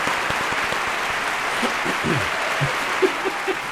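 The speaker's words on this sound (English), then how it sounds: "Where's my applause? There it is." A canned applause sound effect plays on a comedy radio show, a soft, steady patter of clapping, moderately faint, with a few brief voice fragments near the end.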